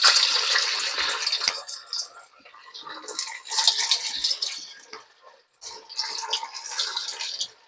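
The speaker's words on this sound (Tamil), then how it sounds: "வாங்க இப்போ நம்ம எண்ணெயில் பொரிச்சு எடுத்துகிட்டு வந்துடலாம்" Sago (javvarisi) vadai frying in hot oil over a medium flame: loud, crackling sizzle that comes in three bursting waves with brief quieter gaps between them.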